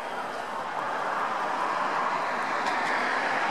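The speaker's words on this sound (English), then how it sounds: "And that's the train. I just got off." Steady, broad rumble and hiss at a train station just after a train's arrival, a continuous wash of rail and traffic noise with no distinct events standing out.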